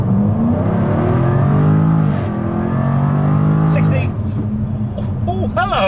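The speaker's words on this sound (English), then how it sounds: "I literally just buried my foot on the throttle and it dug in just for a fraction and then it let rip." A Jaguar F-Type P450 launches hard from a standstill in a 0 to 60 run with no launch control, its engine rising loud and strong through rising revs, dipping at a gearshift, then pulling again as a voice exclaims.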